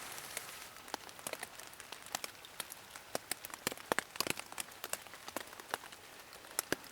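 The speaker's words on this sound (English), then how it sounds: "And you're probably hearing the rain." Rain falling on a ZPacks Hexamid Solo Plus tarp in a forest, with irregular sharp drop taps pattering on the fabric over a soft hiss, faint and close, with no voices.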